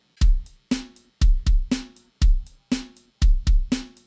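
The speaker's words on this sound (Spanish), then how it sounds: "lo que acaban de oír es un loop de batería" A punchy drum loop: booming kicks and sharp snare hits in a steady, repeating pattern with short gaps, played alone and loud.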